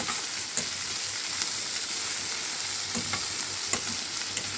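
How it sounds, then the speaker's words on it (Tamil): Spring onions sautéing lightly in a hot pan give a steady close sizzle and crackle, broken by a few soft stirring scrapes and taps, with no voices. "லைட்டாக வணக்குனா போதுங்க"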